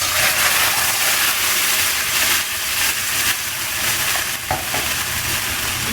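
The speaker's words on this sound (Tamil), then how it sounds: "இதை நல்லா கைவிடாது கிண்டணுமா?" Rice flour batter with salt and chilli, for puzhungal arisi kozhukattai, is stirred continuously in a hot pan, giving a loud, steady sizzling hiss with soft scraping strokes and no talking.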